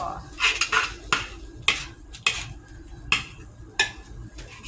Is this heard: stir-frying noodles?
yes